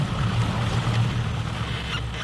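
A boat engine runs nonstop while the hull forces its way through sea ice off Greenland, making a steady, close, low droning rumble with a broad wash of noise over it and no voices.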